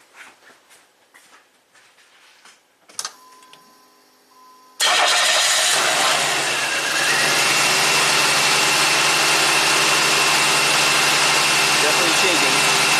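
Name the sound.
1990 Buick Regal V6 engine started and running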